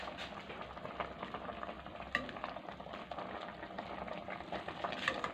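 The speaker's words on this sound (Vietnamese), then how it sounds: "mình để cho nó sôi cho chín cái rau ngót này là được thôi" Pot of soup with katuk leaves and oysters bubbling steadily at a low, even level, with faint stirring and sizzling texture throughout and no talk.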